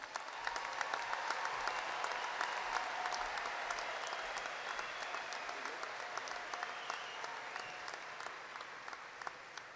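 Sustained, dense applause from a large crowd honoring graduates at a university spring commencement, steady and even throughout, with sharp individual claps standing out from the wash.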